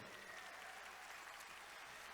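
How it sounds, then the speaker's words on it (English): Crowd applause at a wacipi powwow exhibition in a shopping mall, a brief dense wash of distant clapping filling the space. "How about a round of applause for Glenda Littlebird?"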